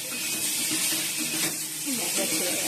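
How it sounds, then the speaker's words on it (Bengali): Hot water poured into spices frying in a pan for a Bengali fish-roe curry hisses and sizzles steadily, close and continuous, with a voice talking over it. "ভালো করে কষিয়ে তারপর একটু জল দিয়ে দেবো,"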